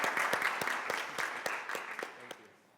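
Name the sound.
audience applause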